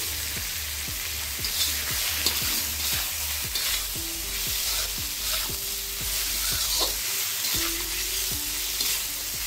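Prawns frying in a pan, with a continuous loud sizzle and repeated stirring scrapes throughout, close up and with no talk.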